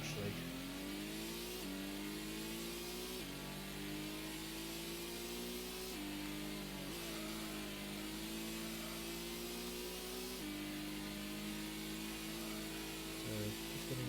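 A race car engine in Gran Turismo revs up loudly and steadily through a circuit lap, with the pitch climbing and then dropping at each gear change, nonstop for the whole stretch.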